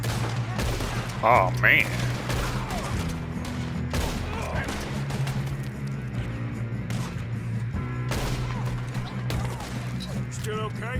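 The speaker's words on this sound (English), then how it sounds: "Put a bullet in that bastard." Gunfire in the Red Dead Redemption 2 video game, a rapid fusillade of sharp shots and cracks over steady background music, with a man's brief exclamation and other game voices mixed in.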